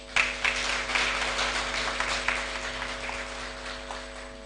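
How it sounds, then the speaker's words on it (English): An audience applauds as a speaker leaves the stage at a South Sudan banking event, a steady patter of clapping from a moderately sized crowd over a constant electrical hum, tapering slightly toward the end. "As he leaves, let's give him applause"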